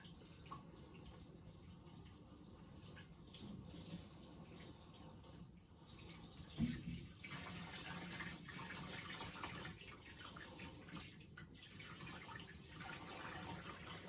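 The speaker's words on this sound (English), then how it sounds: "And now, I add the water." Water pours gently from a bottle into a newly set-up aquarium, a soft continuous trickle and splash that stays fairly quiet, with one small knock partway through.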